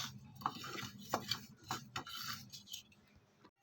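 Dry whole spices for fish fry masala scrape, rattle and shuffle against a frying pan as they dry-roast in quick irregular bursts, close up, with no talking.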